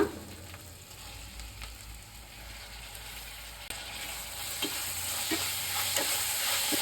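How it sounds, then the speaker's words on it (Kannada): Chopped medium tomatoes tipped into a hot pan for a chicken curry, giving a steady close sizzle and frying hiss with occasional stirring scrapes and no talk. "ಇವಾಗ ಎರಡು ಟೊಮೊಟೊ ಮೀಡಿಯಂ ಸೈಜ್ದು ಕಟ್ ಮಾಡ್ಕೊಂಡಿದ್ದೀನಿ ಅದನ್ನ ಹಾಕೊಳ್ಳೋಣ"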